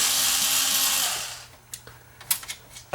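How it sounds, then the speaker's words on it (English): A power screwdriver spins for about a second as screws come out of a Denon AVR2307 receiver's casing. A few light metallic clicks and taps follow, close and fairly quiet, with no talk. "So we'll just remove the screws that I put in just to hold it together"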